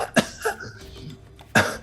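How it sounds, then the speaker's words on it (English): Two short, sharp coughs sound close and fairly loud, one at the start and one near the end, with a quieter throaty sound between them. "you kind of cough a little bit"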